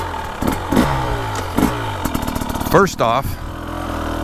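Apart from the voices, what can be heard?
KTM 300XCW two-stroke dirt bike engine running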